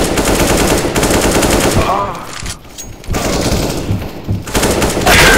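Loud, dense automatic gunfire in a first-person shooter game, with rapid machine-gun bursts, a short lull in the middle, then heavy firing resumes and continues to the end.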